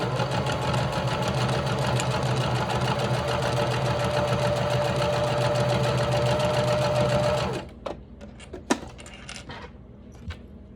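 Sewing machine stitching down a D-ring strap on a bag, a fast loud rhythmic mechanical whirr for about seven seconds that stops abruptly, followed by a few light clicks and clatters of handling.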